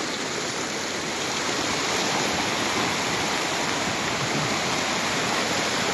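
Rising stream water in a mountain valley rushes in a dense, even roar, loud and close, with no let-up and no voices.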